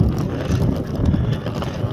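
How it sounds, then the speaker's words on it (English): Cold morning wind gusts outdoors, a steady low rumble buffeting the microphone for the whole stretch with no voices. "it is cold and it is windy this morning"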